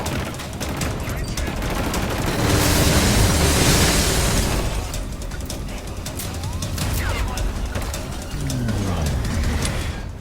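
Dense gunfire bursts and rolling explosions from the video game Killzone Shadow Fall rattle up close and loud, continuous rapid shots layered with booming blasts and shouting voices.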